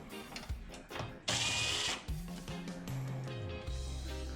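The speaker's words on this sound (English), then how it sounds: "Just use your screwdriver, your Phillips screwdriver, or your Phillips bit with your drill" A cordless drill fitted with a Phillips bit backs screws out of the touch panel on a Whirlpool electric stove, model WEE730H0D, with bursts of whirring motor and ratcheting clicks, close and loud, with no talking.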